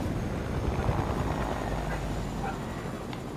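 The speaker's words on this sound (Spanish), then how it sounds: "Le están disparando al helicóptero." A helicopter in the Fortnite video game drones continuously with a dense, rumbling rotor and engine roar, loud and steady throughout with no pauses.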